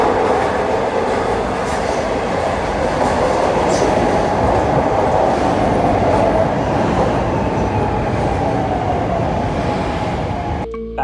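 An elevated subway train rumbles loudly and steadily over a steel el structure in Queens, a dense continuous roar with faint clatter that holds for about eleven seconds before cutting off abruptly.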